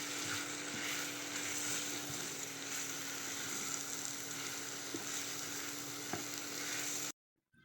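Boiled, shredded chicken mixed with spices sizzles steadily in a frying pan, with occasional soft stirring scrapes. The frying stays continuous and close, then cuts off abruptly near the end.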